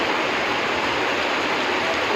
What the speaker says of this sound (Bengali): বৃষ্টির মধ্যে বৃষ্টি এমন বৃষ্টি করছে প্রচন্ড